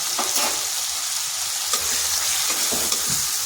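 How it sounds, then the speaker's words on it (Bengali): Chili, turmeric, cumin and coriander powder masala frying in a pan, a loud continuous sizzle with occasional soft stirring scrapes. "মশলাটা ভালোভাবে কষিয়ে নিচ্ছি।"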